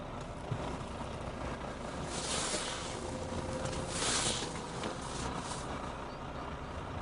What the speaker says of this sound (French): Et je vais remettre le tracteur en position initiale.